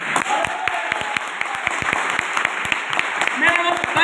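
An audience at a sales leadership gathering claps in a moderate, uneven patter of distinct hand claps, with a voice speaking over it.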